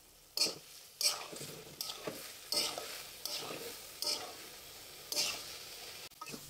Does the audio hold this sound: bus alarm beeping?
no